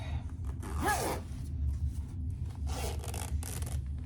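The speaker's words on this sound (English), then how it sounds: "so now zip up your zipper tape" Zipper tape being zipped up while sewing a wallet with a coin pouch: several short close rasping pulls, one longer zip near the start and more in the second half, quiet room, no talk.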